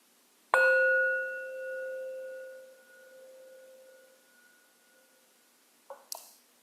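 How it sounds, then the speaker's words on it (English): A single meditation bell is struck once, ringing out with a clear, pure tone that slowly decays over several seconds in a quiet room, followed by a couple of faint soft knocks. "I'm going to start with the sound of a bell."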